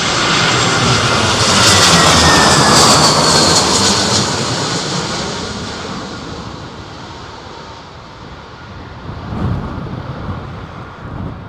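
An airliner roars in to land at Heathrow Airport in stormy, gusty weather, its engines loud and broad at first, then fading slowly as wind buffets the microphone. A brief swell of engine noise returns near the end.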